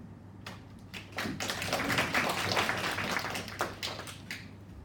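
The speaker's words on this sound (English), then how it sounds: "please join me a big applause for Ms. Isabel Chiu" Applause from a seminar audience, a steady wash of many hands clapping at moderate distance that swells after the first second and carries on evenly to the end, with no voices over it.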